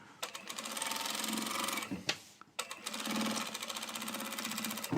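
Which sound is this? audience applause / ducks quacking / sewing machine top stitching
sewing machine top stitching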